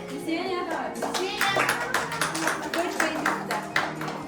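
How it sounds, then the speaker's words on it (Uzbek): Children and adults clapping together at a kindergarten event, a steady run of close, crackling applause that keeps going throughout, with voices mixed in. "Olqishingizda."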